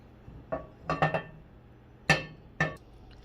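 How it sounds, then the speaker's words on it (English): Metal utensil scraping and clinking against a pan while a cabbage pie mixture is transferred into it, a handful of short, fairly close knocks and scrapes spaced irregularly, with no talking. "Okay, so we transfer a beautiful mixture into the pan"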